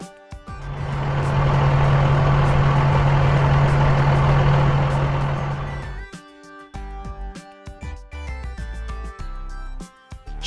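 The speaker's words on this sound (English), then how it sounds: "Bulldozer." Bulldozer engine, a heavy droning roar with a steady low hum that swells in, holds for about five seconds and fades into background music.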